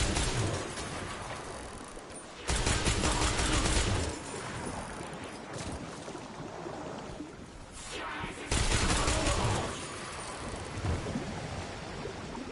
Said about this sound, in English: This is a brand new auto rifle.